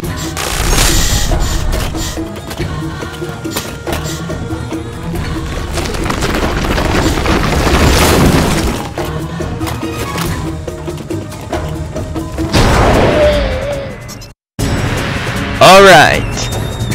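Structure being smashed in the Bionicle Heroes video game, loud booming destruction with crashing debris and bursts of game effects over dense music, a sharp cut near the end followed by a final burst.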